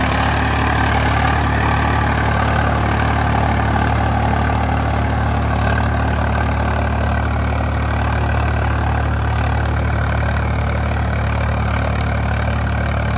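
A Swaraj 855 FE tractor fitted with a 5M implement, working a farm field: its engine gives a loud, close, unbroken low drone with a steady throb that holds evenly throughout.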